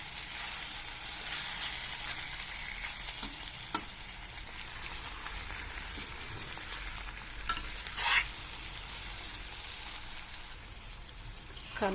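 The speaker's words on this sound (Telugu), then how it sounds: "ఇప్పుడు నేను వంకాయ ఫ్రై చేసుకున్న వాటిని వేస్తున్నాను" Fried stuffed eggplant added to masala sizzling in a pan on a low flame, with a continuous crackle and scraping stir strokes, plus a few louder clinks near the end.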